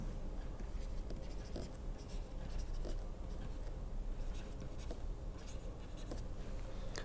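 Steady scratchy writing during a lecture on structured and unstructured grid generation, continuous over a hiss of room noise, faint and close, with small pen-stroke accents throughout and no speech.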